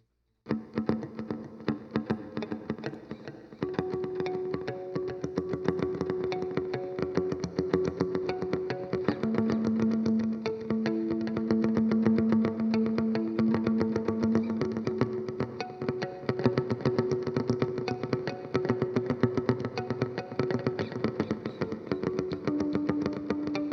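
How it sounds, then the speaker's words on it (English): An electric guitar plays through a Boss reverb pedal set with delay, sustained notes repeating and trailing off in echoes, steady and moderately loud with no talking. "delay is the actual echo, echo, echo, echo"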